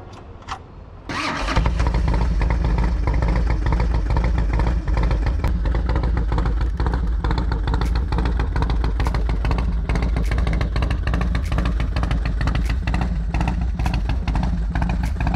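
A 2001 Harley-Davidson Dyna FXDX T-Sport motorcycle with minor modifications fires up and settles into a loud, steady, rumbling idle close by, with no talking over it.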